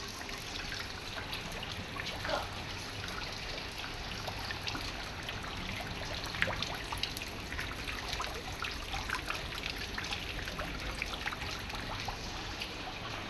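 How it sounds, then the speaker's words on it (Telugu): Light rain falls steadily and faintly, with a soft continuous patter and trickle and occasional drips. The sound is even throughout, with no speech. "వాన అయితే పడుతుంది నిదానంగా."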